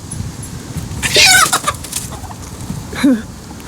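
Chickens kept near turkeys on a farm give a couple of sharp, squawking clucks, one around the middle and another shortly after, nearby over a low, noisy yard background.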